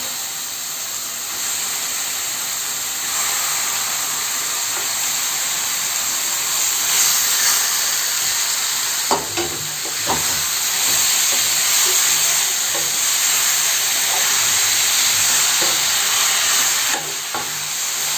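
Half a kilo of turmeric-washed chicken drops into a pan of frying onion-tomato gravy for pepper chicken, a loud steady sizzle and hiss with stirring clatters and scrapes partway through.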